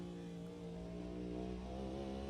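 Race cars in the GTL racing video game drone steadily, a sustained engine tone with a faint rise in pitch, fairly quiet and without talk.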